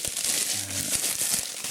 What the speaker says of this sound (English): I'm gonna obviously unwrap them.